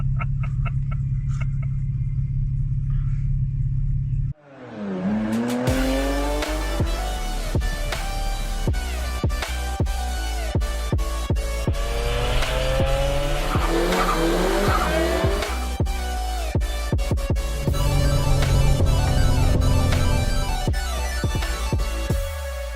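A car overtakes on a road near Beaulieu Motor Museum during a Porsche show. A loud, close engine surges in with rising revs and a harsh roar that stays strong and steady for many seconds, with no speech.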